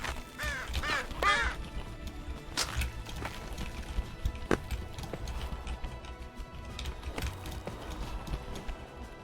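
Harsh bird squawks and caws from the video game Peaks of Yore, loud and repeated over a dense, busy game soundscape with clattering, mechanical noise throughout.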